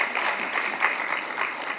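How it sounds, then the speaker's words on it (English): An audience at a public lecture on HIV/AIDS bursts into steady, dense applause, many hands clapping together at moderate distance with a slight rise and fall in intensity. "Can we clap for that?"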